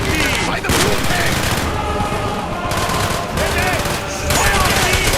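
Dense, sustained automatic gunfire rattles loudly and almost continuously through a Call of Duty: Black Ops mission, with rapid bursts layered over each other and only brief dips in intensity.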